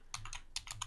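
Quick light keystrokes tap on a computer keyboard, two short bursts of three clicks each, close and quiet with no talk.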